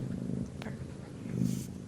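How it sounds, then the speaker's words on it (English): A cat purring softly and close by, a low steady rumble that swells slightly near the end. "I hear a cat."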